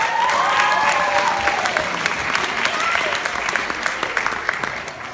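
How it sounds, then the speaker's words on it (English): Audience at a high school improv comedy league match applauds a team: dense, lively clapping close by, with cheering voices and a few whoops rising early and fading, sustained throughout. "Give them a big round of applause."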